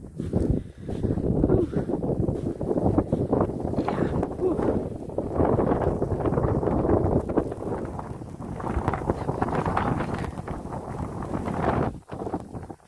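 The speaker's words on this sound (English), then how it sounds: "It's a little windy out here." Wind roars and gusts steadily across the microphone during a snowstorm outdoors, with people talking intermittently over the rushing noise.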